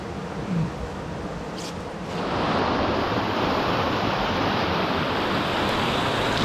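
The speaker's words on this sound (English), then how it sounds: "This water is super fast and it's extremely slippery just here" Fast-flowing water rushes through a rocky gully with a steady broadband roar, swelling louder after a couple of seconds and holding constant, close and continuous with wind buffeting the microphone.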